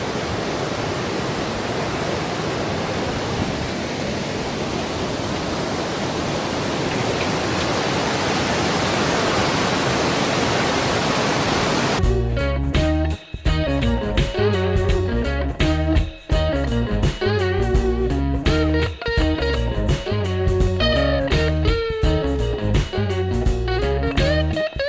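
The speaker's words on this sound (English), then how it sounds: "Now I am walking to a bridge which has a flowing river underneath it." A river flows beneath a bridge in Sikkim, a loud, steady broadband rush that gives way partway through to music.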